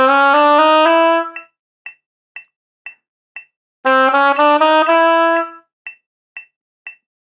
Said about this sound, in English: The sequence for the chromatic scale then will sound like this.